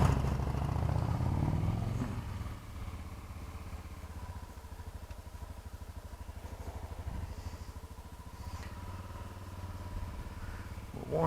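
A Honda CRF 250L motorcycle idles while warming up, a steady close mechanical chugging with light clatter after a brief louder revving start.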